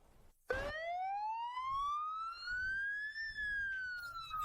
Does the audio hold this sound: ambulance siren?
yes